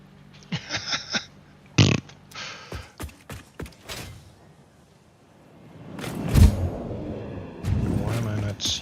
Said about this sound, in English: I don't love when you pick up a kitten and it takes a fart.